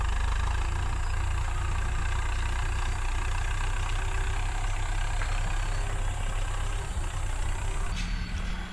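A farm machine engine idling steadily at close range, a continuous low rumbling drone that holds unchanged throughout with no talk.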